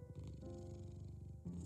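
A cat in the video game Milo and the Magpies purrs in a steady, soft rumble that holds throughout, close and quiet with no other sounds.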